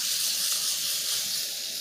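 Steady loud hiss of steak searing in a very hot pan, a continuous bright sizzle without pauses or talk.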